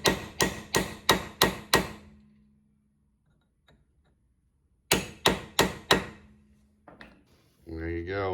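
Sharp metal hammer strikes knocking a nut back onto a Mini Cooper S R53 motor mount, two loud close bursts of about five rapid blows each separated by a quiet pause, with someone speaking briefly at the end.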